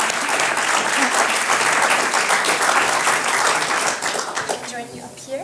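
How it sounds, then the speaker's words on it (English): An audience at a ceremony for the GCSP Prize for Innovation in Global Security gives sustained, dense applause that holds strong for several seconds, then thins and tapers off toward the end. "Let's give them a round of applause."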